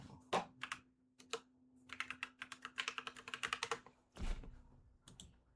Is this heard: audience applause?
no